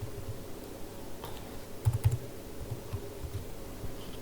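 Quiet keystrokes on a computer keyboard while code is typed, soft irregular clicks with a short flurry in the middle, close and faint, no talking.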